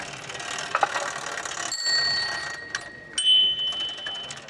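Half a bicycle used as a stage prop: freewheel ticking and rattling, a few bright metallic rings like a bike bell, and a short whir near the end, close and fairly loud.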